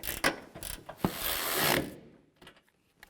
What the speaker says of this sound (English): Now we can tighten these nuts down.